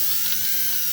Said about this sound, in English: I'm just going to start drilling right into that screw, right in the middle of it